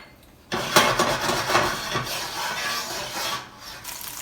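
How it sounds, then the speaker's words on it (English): Pepper ground from a hand pepper grinder over chicken piccata, a close, gritty rasping crunch running steadily for a few seconds after a quiet start. "to grind the pepper."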